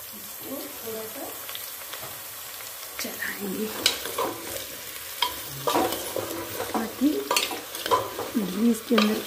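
Grated carrots fry and are stirred in a pot for carrot halwa. A steady sizzle runs under repeated scraping, stirring clatters that grow louder toward the end, while someone talks over it.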